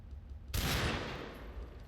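A Desert Eagle pistol fires in the video game CS:GO: a sudden loud, close blast about halfway in, followed by a long, fading roar of echo and noise.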